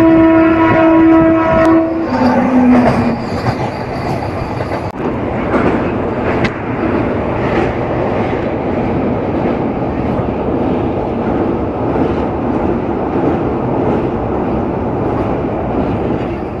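A passenger train running from Narasapur to Guntur: its horn sounds for about two seconds at the start, then a steady, loud rumble and rattle of the carriages continues throughout.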